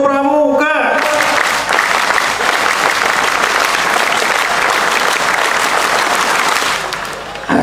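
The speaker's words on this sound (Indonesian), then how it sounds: "Dua kali tepuk pramuka." A large crowd performs the Indonesian scout clap twice at a gathering addressed by Governor Ganjar Pranowo, loud, dense clapping that bursts in right after a short spoken call and holds steady for several seconds.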